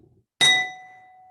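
A single sharp strike on a drinking glass rings out clearly, leaving a bright, pure tone that fades slowly after a moment of silence.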